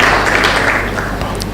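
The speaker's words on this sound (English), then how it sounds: "Please a round of applause for Dr. Michael Bala." Audience applause at a physiotherapy induction ceremony, a dense, loud wash of many hands clapping together from start to finish, fading slightly toward the end.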